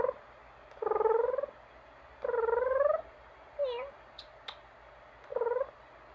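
Cat giving several drawn-out meows, close and clear, in separate calls spaced over a few seconds against a quiet room, with a couple of small clicks in between.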